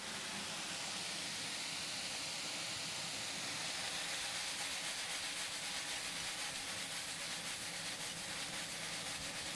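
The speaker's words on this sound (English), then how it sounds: "Can you hear that sizzle or what?" A steady, even sizzling hiss of wild mushrooms frying in a pan, continuous and fairly soft, with no voices over it.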